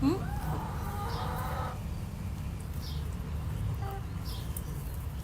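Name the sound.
chickens clucking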